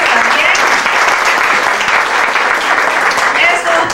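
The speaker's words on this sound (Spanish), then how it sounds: "Un aplauso" A theatre audience applauds a cast member during a 1996 revue at Teatro Repertorio Español in New York, a dense, steady wash of many hands clapping that holds loud and even for the whole stretch.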